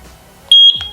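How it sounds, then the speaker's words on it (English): A single sustained electronic beep from the sync button of a eufy SoloCam S40 solar-powered security camera, loud and close, lasting under a second before a soft thump. "click on the sync button for 2 seconds until you guys hear a beep"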